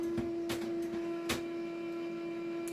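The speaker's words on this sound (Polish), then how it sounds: "Także przepraszam Was za drukarkę w tle." A printer runs in the background with a steady electronic hum and a few sharp mechanical clicks and knocks, fairly quiet, no speech over it.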